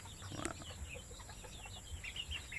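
Native chickens clucking in a rural yard, soft scattered clucks and chirps over a steady background hum, fairly distant and low in level, no talking.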